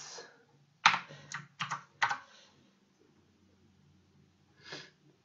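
Python code is typed on a computer keyboard in close, crisp keystroke clusters, with a quick flurry in the middle and a final short burst after a pause, then near silence.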